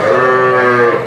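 An eight-month-old lamb of the Arashan sheep breed lets out a single loud, close bleat, a short sustained tonal call lasting about a second.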